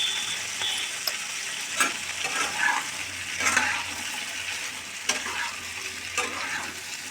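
Potatoes frying in oil for Bengali alu posto, salted, with a steady close sizzle broken by occasional scraping stirs of a spatula in the pan, no voices.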